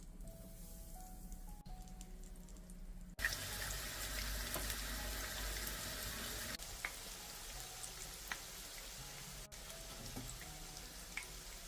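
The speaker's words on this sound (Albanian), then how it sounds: "Vazhdojmë tani të fërgojmë qoftet për 3-4 minuta në vaj të nxehur" Food sizzles and crackles in hot oil, a steady hiss with occasional pops, quiet and close, no voices.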